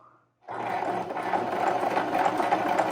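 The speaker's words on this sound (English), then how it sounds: "And then all I do is I just sew" A sewing machine stitches a short line across scrap fabric, starting abruptly after near-silence into a steady, close mechanical whir with a fine rattling rhythm that builds slightly.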